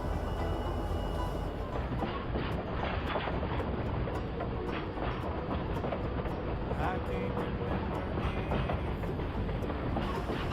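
A passenger train pulls out of a station in a steady, loud, dense rumble of wheels and engine. The sound carries on without a break for about ten seconds.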